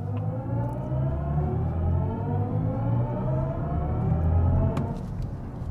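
A BMW i7 electric car accelerates hard from standstill to 100 km/h in sport mode, its electric whine rising steadily in pitch over several seconds above a low road rumble, then easing off abruptly.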